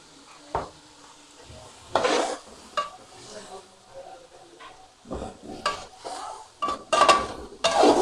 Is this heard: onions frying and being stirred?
yes